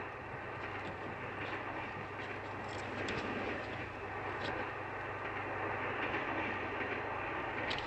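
A passenger train running, a continuous rumbling roar with rhythmic clatter and faint higher rattles, steady and fairly loud with no clear voices.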